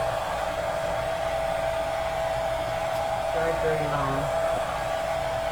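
A hair dryer blows steadily up close, drying a chalk drawing with a constant whirring hum, while someone speaks briefly over it.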